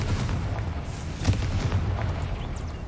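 The Confringo fire spell blasts in the Hogwarts Legacy video game, a loud booming burst rising out of a dense, continuous rumbling roar.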